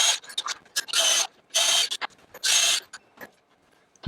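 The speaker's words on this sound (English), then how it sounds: "now I have just a Tachi, it's 18 volt lithium drill" An 18 volt lithium cordless drill from Tachi driving a nylon lock nut while mounting a scroll saw to a bench: several short, loud, ratcheting whirring bursts close up, separated by brief pauses and small clicks.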